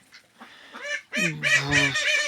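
An Indian Runner duck gives a few loud, harsh nasal calls close by, starting softly then rising into a strained honking quack.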